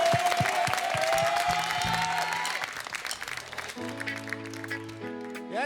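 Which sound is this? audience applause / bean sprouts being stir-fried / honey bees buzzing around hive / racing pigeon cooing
audience applause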